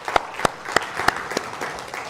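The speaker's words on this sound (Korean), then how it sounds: "우리 박수 한번 해주시기 바랍니다" A small church congregation claps during a Sunday service in a sparse, uneven way, with several sharp distinct claps standing out over a light patter of hands, close and brief.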